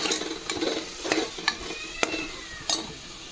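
Coriander chicken roast with turmeric sizzles in a pan while a spoon stirs it, making repeated scraping strokes and a few sharp clinks over a steady close frying hiss.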